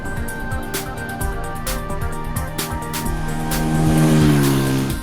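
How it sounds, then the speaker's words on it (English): A TVS Apache RTR 200 motorcycle engine idles and blips with a loud, throaty, rough exhaust burble, then revs higher toward the end; no talking. "you can hear the exhaust tone, which is loud, throaty"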